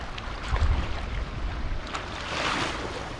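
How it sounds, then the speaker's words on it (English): Water splashed by hand around rocks on a Spanish shoreline during crab hunting, with a few brief splashes over wind and surf noise outdoors. "So he's splashing water around these rocks."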